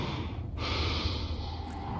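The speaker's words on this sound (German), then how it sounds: "was schnauft der denn so laut?" A creature in the sci-fi video game Prey snorts loudly and heavily, a close, continuous breathy rasp that rises after a brief dip and keeps going for the full two seconds, with no voices.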